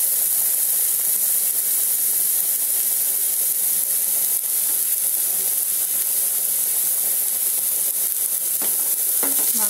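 Green chillies and onion sizzle steadily in a frying pan as an egg macaroni dish is cooked, with a dense, continuous hiss and faint stirring clicks near the end. No one speaks.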